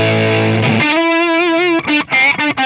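Electric guitar with a dirty, overdriven tone through an FM3 ODS-100 amp model: a loud sustained distorted chord, then a held note, followed by a few short choppy stabs near the end.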